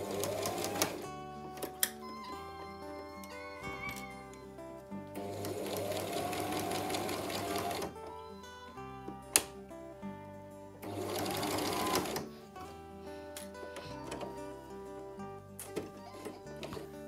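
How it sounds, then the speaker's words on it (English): Sewing machine stitching the side seams of a child's handmade crop top, running in several bursts of steady rapid whirring with short pauses and small clicks between. "I'm going to sew the sides"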